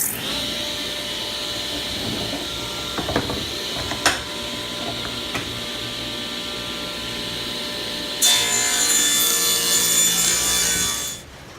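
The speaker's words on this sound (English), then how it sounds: "make a new piece of wood and cut 2 new holes for the 2 new speakers that I have" A saw cuts round speaker holes in a new piece of wood for an arcade cabinet, with a steady rasping drone, a few sharp knocks, and a louder, brighter cutting stretch near the end before it stops.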